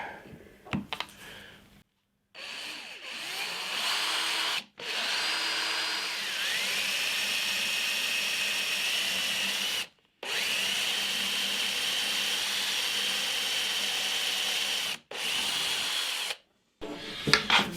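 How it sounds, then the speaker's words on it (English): A hand drill bores holes into fence wood for a guitar body, whining steadily in four long runs separated by short pauses, close and loud. "Going to have to cut the last two holes out with a hand drill,"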